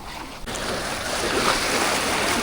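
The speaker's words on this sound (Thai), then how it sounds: "ดูคลื่นนะครับคลื่นแรงอยู่ครับ" Strong sea waves wash and slosh around a boat out on the water at night during night squid fishing, a steady dense roar mixed with gusting wind buffeting close by.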